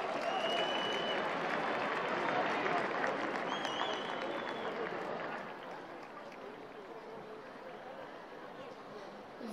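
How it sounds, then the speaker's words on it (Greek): An audience applauds at a New Year's Eve award ceremony at the Stavros Niarchos Foundation Cultural Center, a dense, steady wash of clapping that eases a little toward the end. Faint voices blend into the crowd. "Ένα χειροκρότημα."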